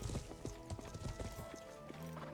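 Horse hooves clip-clopping at a steady riding pace in the medieval game Life is Feudal, with a rhythmic quick beat of hoofbeats and a faint tonal hum beneath, fairly quiet.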